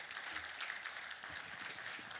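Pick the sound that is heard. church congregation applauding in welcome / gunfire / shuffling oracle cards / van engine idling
church congregation applauding in welcome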